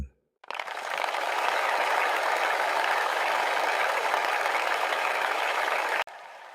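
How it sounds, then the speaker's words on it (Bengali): A large crowd gathered at a royal court bursts into loud, sustained applause after a judgment, dense clapping that starts abruptly, holds steady for several seconds and cuts off sharply, with no voices. "তাই এই করতালির শব্দ"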